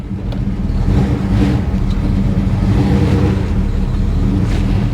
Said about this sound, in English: Oh, there's good burnouts.